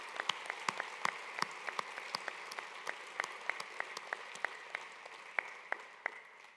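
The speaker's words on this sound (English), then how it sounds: "one more round of applause to those mechanics, those truck drivers" Sparse applause from a conference audience at a state transportation department's annual meeting, individual claps sounding out irregularly over a soft background hiss, thin and fairly quiet.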